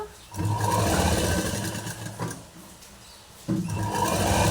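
A sewing machine stitching polish work on a saree whirs in close, fast bursts, pausing briefly between runs and then starting again.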